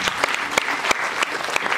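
Audience applause at an annual awards ceremony in Tagore Hall, Srinagar: a dense, steady wash of clapping from a large crowd, with a few louder individual claps standing out.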